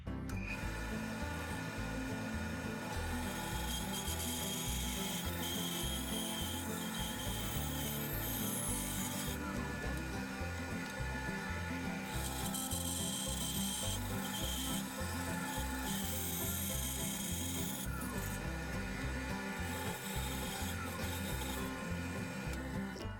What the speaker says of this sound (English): I'm gonna take this to the bandsaw